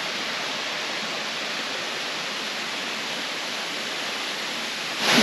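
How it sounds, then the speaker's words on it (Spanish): The Velo de Novia waterfall in Temalac, Guerrero roars as a loud, unbroken rush of falling water close by, with no voices. "ya estamos justo en la cascada Velo de Novia aquí en Temalac"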